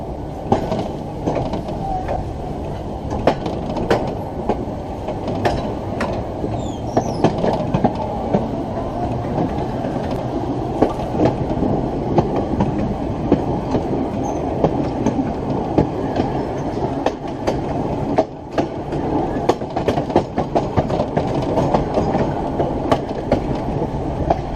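A Norfolk Southern freight train passes on the railroad at Schrock Road, a continuous rumble with rhythmic clickety-clack of wheels over rail joints throughout, fairly close and loud.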